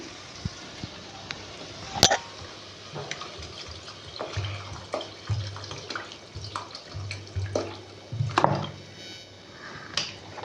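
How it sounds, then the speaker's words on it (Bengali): Water poured into a pan of egg soybean curry, scattered splashes and sloshing pours over soft background noise, close and moderately loud. "এবার এর মধ্যে আমি জল দিয়ে দেব।"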